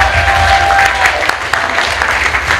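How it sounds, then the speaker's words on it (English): Audience applause at a church celebration honoring a graduating class, a dense, steady wash of clapping from a large congregation lasting the whole stretch, with faint murmurs underneath. "a round of applause to batch Joshua"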